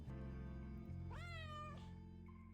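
A cat in the Returns Outlet Simulator video game gives one rising, drawn-out meow over a steady, humming musical background, with no speech.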